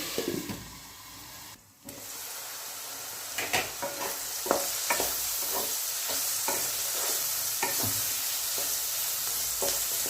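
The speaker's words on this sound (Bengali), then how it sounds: "সবজিগুলো একটু ভাজা হোক" Vegetables fry in plenty of oil in a pan for a vegetarian pasta, with a steady close sizzle broken by repeated sharp clacks of a spoon stirring, after a brief quieter moment near the start.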